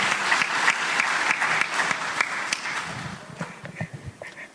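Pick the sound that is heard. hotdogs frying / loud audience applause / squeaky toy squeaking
loud audience applause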